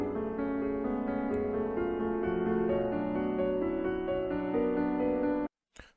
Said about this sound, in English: this is what the sample sounds like